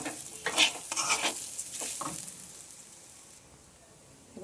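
Rice pulao with garam masala being stirred in a pan, a few scraping strokes with soft sizzling in the first two seconds, then the sound fades to a quiet simmer.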